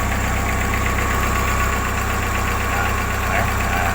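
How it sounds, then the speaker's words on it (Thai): A Mazda 323 with a BP engine and an unstable idle runs steadily and loudly up close, a continuous low mechanical hum with a faint rhythmic knock and no clear change in pitch. "รอบเครื่องเริ่มลดลงแล้ว"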